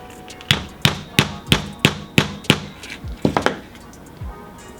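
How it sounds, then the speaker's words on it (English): A hammer taps a metal needle closed in a steady series of sharp taps, then a quicker cluster of lighter hits and a final dull knock, close and loud. "but I have this hammer and that's what I'm going to use"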